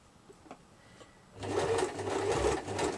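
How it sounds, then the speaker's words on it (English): A sewing machine stitches two pieces of fabric together for doll accessories. It starts about halfway through with a steady, close, rattling whir, after a few quiet handling taps. "I'm just going near the edge and being careful, a couple of stitches at a time."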